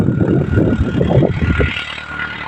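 A tractor engine runs steadily in a sugarcane field, a loud continuous low rumble with no pauses that eases slightly toward the end.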